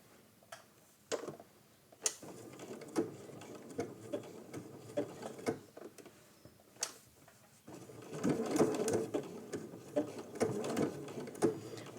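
A sewing machine stitches raw edge applique in short start-stop bursts of ticking needle strokes, the run becoming steadier and louder toward the end, with no talking.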